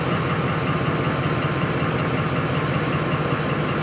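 A 2004 Ford F-150 with a 5.4L V8, stalling with a suspected faulty fuel pump driver module, idles in a steady, unbroken low rumble, close and constant throughout.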